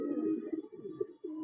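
Pigeons from a breeder's good-line stock coo in low, rolling, overlapping calls that run steadily for about a second and a half, close by and moderately loud.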